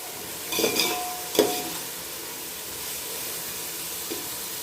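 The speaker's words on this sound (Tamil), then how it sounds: "2 ஸ்பூன் இஞ்சி பூண்டு பேஸ்ட்டு சேர்க்கேன். இது டக்குன்னு அடி பிடிக்காமல் நம்ம கிளறி விட்டுறணும்." Ginger garlic paste being stirred as it fries in a pan, a few soft scraping and sizzling bursts over a steady low background hiss, fairly quiet throughout.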